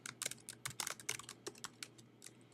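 Keys on a Mac computer keyboard pressed in quick, uneven bursts while working in Microsoft Word, close and fairly quiet, with no voices.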